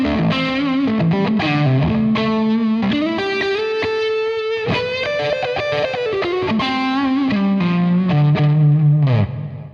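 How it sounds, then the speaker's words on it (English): Heavily distorted electric guitar through a Maxon RTD800 overdrive and distortion pedal with boost, playing sustained chords and bends, thick and saturated with a chorus-like shimmer, loud and continuous with no talking. "It's an overdrive and a distortion with a boost."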